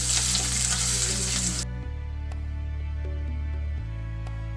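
Ginger frying in a hot pan with oil, a loud dense sizzle for the first second and a half that then drops to a softer crackle over a steady low hum.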